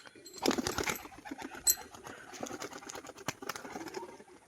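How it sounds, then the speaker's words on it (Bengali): A Rajshahi racing pigeon from a home loft gives soft, scattered coos close by, with light rustles and clicks in between. "এটাও আমার খোপের পায়রা"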